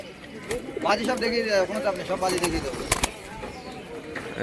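Madras pigeons at a village market coo close by in warbling bursts, with wing flaps and crowd noise, while someone talks over them.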